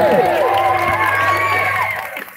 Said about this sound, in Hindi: ताली बजाएंगे देवरी बालोद के सपोर्टर।